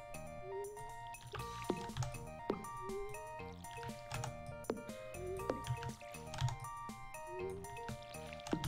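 Watering crops with a watering can in Stardew Valley: a string of soft, repeated splashy pours and drips arrives in a steady rhythm over faint game music, quiet and close.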